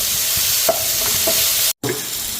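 Chopped tomatoes fry in a pan for a mussel roast, stirred steadily so a close wet sizzle runs under soft scraping strokes, with one brief dropout near the end.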